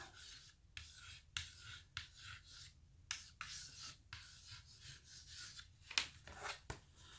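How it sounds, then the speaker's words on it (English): Chalk scratching across a small Dollar Tree chalkboard in short, repeated strokes with brief pauses between words, close and fairly quiet with no talking. "Let's see if I can write something with chalk that looks happy."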